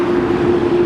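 Large passenger airliner engine at Los Angeles International Airport, a steady loud drone with a strong sustained tone, heard alone for under a second with no voices.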